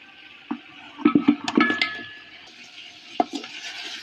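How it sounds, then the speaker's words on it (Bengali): A few sharp clinks and scrapes of a spoon against a pot while stirring beef with fried spices for biryani, clustered in a quick burst, then one more knock, close and fairly quiet. "মাংসটা নেড়ে নেবো এবারে"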